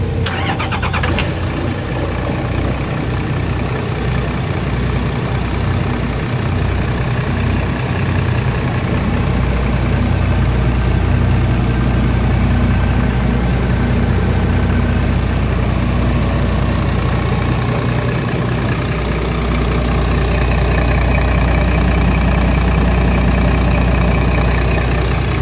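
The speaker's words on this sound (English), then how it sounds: "The starboard motor." The starboard motor of a 2009 Meridian 441 motor yacht idles in a loud, steady, low rumble that runs unbroken throughout, with a brief rougher burst at the very start.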